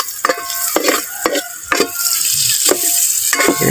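Garlic stirred and frying in a pan for a Filipino dish: steady hiss of sizzling oil with repeated scraping strokes of a utensil against the pan, close and fairly loud, no talk.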